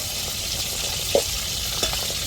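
Prawn 65 masala sizzling and frying in a pan, a steady close crackle of hot oil with a couple of brief stirring clinks and scrapes.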